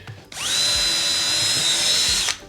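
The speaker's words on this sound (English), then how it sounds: "So I'll put my drill in through the front there" A power drill pre-drilling a screw hole for a roller blind mount whirs steadily at high speed for about two seconds, spinning up sharply and cutting off abruptly, close and loud.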